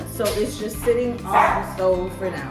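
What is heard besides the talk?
dog barking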